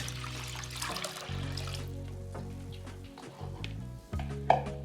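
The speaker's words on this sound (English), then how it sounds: "we're going to get the water into the pot" Water runs and trickles into a metal pot for chicken soup, with a ringing, shifting tone as the vessel fills, plus a faint clink near the end.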